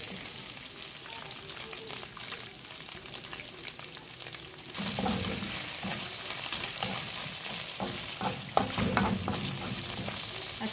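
Fish sizzles in hot oil for a pancit dish, a quiet steady frying hiss that turns louder and crackly halfway through as pieces are added and stirred, with no voices.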